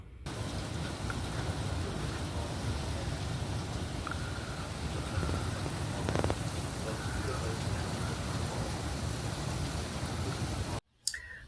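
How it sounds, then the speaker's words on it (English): Heavy rain from Hurricane Helene falls steadily in North Carolina, a dense, loud, continuous hiss and patter that fills the whole stretch before cutting off abruptly near the end. "All we got was really bad rain, and the photos wouldn't capture it, so here it is in a video"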